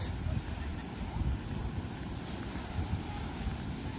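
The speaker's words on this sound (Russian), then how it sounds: "вот вечером очень сильные волны" Strong evening sea waves roll onto the shore at Mersin, Turkey, making a continuous low roar and wash mixed with wind buffeting the microphone, with small swells in loudness but no clear single breakers.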